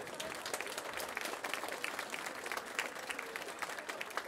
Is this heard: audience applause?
yes